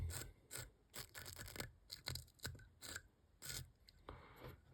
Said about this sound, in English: get your dubbing brush, bit of Velcro, and just stroke some back